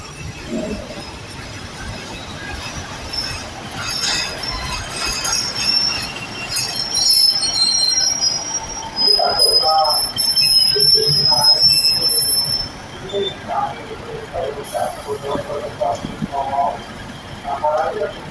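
A train rolls past a station platform with loud, high squealing wheels and rattling cars, people talking nearby over the rail noise.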